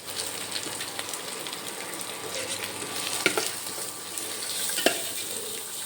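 Carrots sizzle and crackle in a hot pan for poha upma, a steady frying hiss with a few sharp stirring scrapes and clacks, close and fairly quiet.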